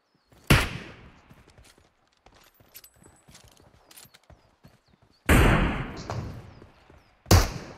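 Gunshots from an online shooter video game: a loud nearby blast, a scatter of small clicks and movement sounds, then two more sharp reports spaced a few seconds apart.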